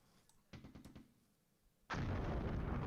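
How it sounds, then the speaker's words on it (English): An artillery barrage falling in Flashpoint Campaigns: a quick cluster of sharp distant thuds, a lull, then a sudden loud surge of heavy rumbling explosions that carries on to the end. "Let's let artillery fall for a moment."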